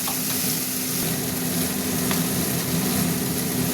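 Taro leaves frying in a pan with shrimp and coconut give a steady, close sizzle with a constant low hum underneath. It runs unbroken and evenly loud throughout, with no talking.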